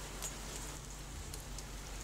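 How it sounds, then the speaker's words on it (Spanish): Steady rain falls, a soft continuous hiss with faint scattered drops and a low hum beneath. "Llueve lejana e indistintamente"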